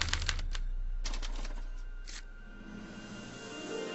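A special typewriter in the Back to the Future video game printing out a punch card: bursts of rapid mechanical clacking, first fast strikes, then a few spaced clusters, fading into a low machine hum. No voices.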